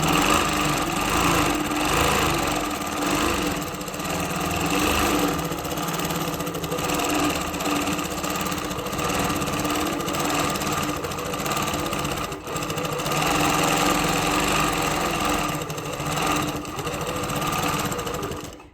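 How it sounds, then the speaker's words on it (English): Handi Quilter Moxie longarm quilting machine stitching fabric, a steady close mechanical whir with fast needle rhythm running continuously throughout, with no talk. "I'm just going to be really careful if I sew around it."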